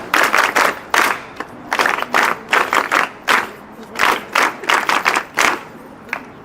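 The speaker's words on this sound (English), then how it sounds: "So we'll give them 3 hearty claps." An audience at a live gathering in Africa claps in rhythmic bursts, loud and close, each group of hand claps separated by brief pauses.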